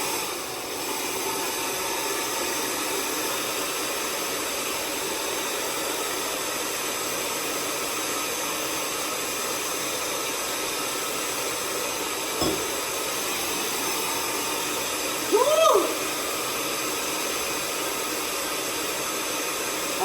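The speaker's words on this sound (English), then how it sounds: "I'm moving around and trying to let the dryer hit everything" A handheld hair dryer blows continuously on damp matted hair, a steady close airy whoosh with a brief knock and a faint change in tone near the end.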